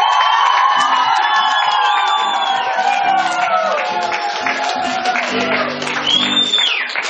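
A crowd cheers, whoops and applauds loudly after someone smashes four blocks in a strength feat, with children shouting and sustained voices filling the space throughout.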